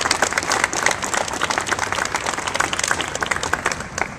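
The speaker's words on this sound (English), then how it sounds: "please give another round of applause for all of our sponsors behind us" A large crowd claps in steady, dense applause for sponsors at a mayor's event at City Hall, loud and unbroken throughout without talk.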